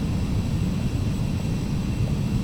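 Steady low engine drone of a Carenado 525A Citation CJ2 jet cruising on autopilot in the Prepar3D v4 simulator, a constant rumbling hum with no breaks.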